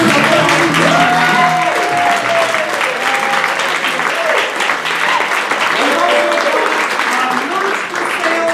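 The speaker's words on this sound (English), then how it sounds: "give yourself a round of applause." An audience applauds Julie with sustained, dense clapping that stays loud throughout, with a few voices rising over it.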